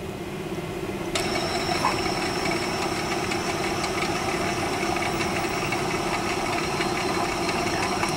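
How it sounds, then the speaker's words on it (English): A small DC motor spins an improvised rotating Christmas light display, starting with a sudden click and then holding a steady whirring hum with faint rattling vibration, close and continuous, without talk. "It's just a DC motor."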